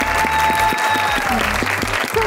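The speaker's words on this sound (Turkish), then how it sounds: "onun için kocaman bir alkış istiyorum" A studio audience on a Turkish talk show applauds a guest, dense clapping running under music and voices, loud and close throughout the short burst.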